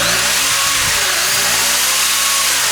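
Power from a small 2-cycle gas generator drives a power drill, heard as a loud, continuous engine-like drone with a few slight shifts in pitch and no speech.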